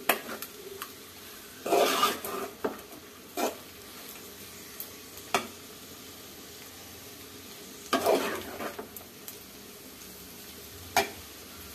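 Food frying in a pan on a stove, stirred slowly over a normal flame, with soft sizzling and a few scraping stir strokes, including louder bursts, over steady low background.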